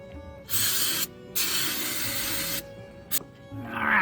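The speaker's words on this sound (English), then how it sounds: "I'm just going to chase it out with a little bit of brake clean." Brake cleaner sprayed from an aerosol can into a vehicle differential, two long close hissing bursts with a short pause between, then a quick spurt and fainter fizzing at the end.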